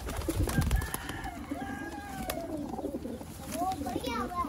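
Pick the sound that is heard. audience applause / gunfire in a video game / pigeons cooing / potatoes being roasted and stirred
pigeons cooing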